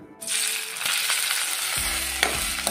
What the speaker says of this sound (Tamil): இந்த இட்லியை வந்து நல்லா ஃப்ரை பண்ணிக்கலாம்.